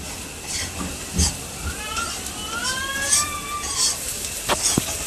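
Spicy fish curry cooking in a pan in a home kitchen, a steady hissing sizzle with occasional clinks and a faint voice in the background.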